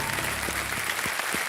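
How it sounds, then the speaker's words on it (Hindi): A studio audience on a quiz game show applauds a contestant with a steady wash of clapping, moderately quiet, with a few brief tonal blips underneath. "तालियां बज जाए इनके लिए।"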